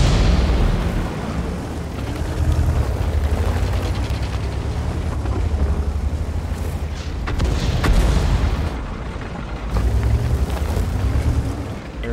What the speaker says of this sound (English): that artillery is just messing us up